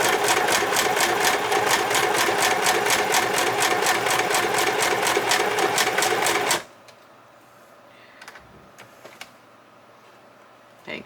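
A sewing machine stitches through a playing-card junk journal, running in a fast, steady, evenly pulsing rhythm up close for about six seconds before stopping. A few faint handling noises follow in near silence.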